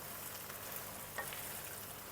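Meat and onion frying in a pan, a steady close sizzle with faint crackles and one brief stir or scrape midway, no voices.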